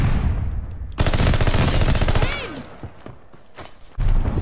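Machine gun fire in Call of Duty Vanguard comes as a loud, rapid sustained burst, then stops and starts again abruptly, with a player talking briefly in between.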